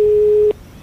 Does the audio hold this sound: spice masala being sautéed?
no